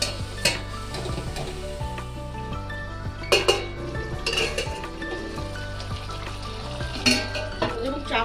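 A lid goes onto a pot of spiced rice, lentils and vegetables for a Bengali chicken pish pash, giving a few sharp metallic clanks and clinks over a low, steady sizzle from the pan, close at hand.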